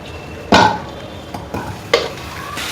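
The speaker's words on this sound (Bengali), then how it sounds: "এখন সেই স্টাফিংটাকে একটু সটে করে নেব, আর তার জন্য আমি বাটার ব্যবহার করলাম" Soya roll stuffing with pizza herbs sautéing in butter, heard as two or three distinct scraping stir strokes against the pan, close and fairly loud, over a faint background sizzle.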